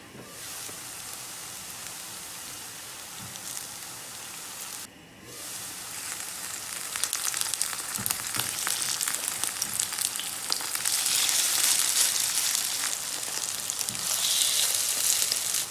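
Steady sizzling of cabbage vegetable patties frying in a covered pan over low-medium heat, a continuous crackling hiss that grows slightly louder and busier toward the end.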